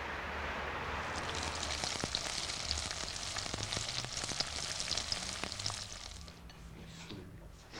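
A cooked breakfast sizzling and frying steadily in a pan, a close, continuous crackle with occasional pops, fading slightly toward the end.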